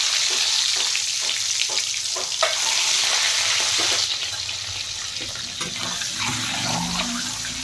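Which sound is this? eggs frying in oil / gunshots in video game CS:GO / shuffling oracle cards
eggs frying in oil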